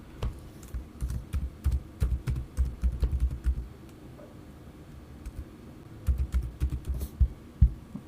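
Quick bursts of keystrokes on a computer keyboard, two loud close rattling runs separated by a short quiet pause, with no voices.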